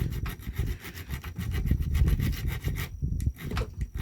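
A small hand file rasps back and forth against a blob of weld on a metal tool handle, close and loud, with rapid steady strokes that pause briefly near the end.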